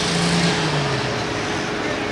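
Poltergeist pulling tractor struggling right off the start line at a 9,300 lb Pro Pulling League tractor pull in Hillsboro, Wisconsin, its engine a loud steady roar with a falling low tone, an announcer talking over it.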